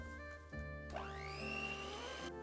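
An electric hand mixer whirs steadily as an egg is beaten into peanut butter cookie batter, its motor pitch dipping and then rising again under load, with no voices.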